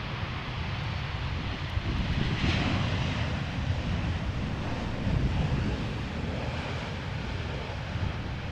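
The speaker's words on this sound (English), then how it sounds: "KLM flight 1008 arriving from London Heathrow" A KLM flight from London Heathrow arrives at Amsterdam Schiphol, its jet engines a distant, steady rumble mixed with wind buffeting the microphone.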